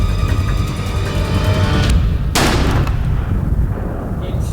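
A single sharp rifle shot cracks out during a hunt, a loud close report with a short ringing tail, set over heavy wind or outdoor rumble.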